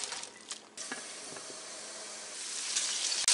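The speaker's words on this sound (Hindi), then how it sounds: "ऑनियन डाल के पका लेते हैं।" Onions sizzle after going into hot cooking oil in a pan, giving a steady, close hiss with soft crackles that grows slightly louder toward the end.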